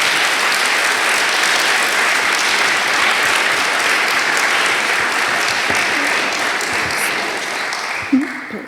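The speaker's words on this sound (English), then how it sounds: "let's give her a round of applause anyway." Audience at a student awards event claps in sustained, dense applause, loud and steady throughout before fading slightly at the end.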